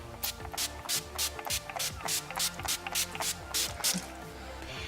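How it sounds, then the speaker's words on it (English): Urban Decay All Nighter setting spray misted onto a face: a rapid series of about a dozen short, hissing pump sprays in quick rhythm, close and fairly soft, with music underneath. "I use the Urban Decay All Nighter setting spray, and I take this baby off and I literally drench my face in it."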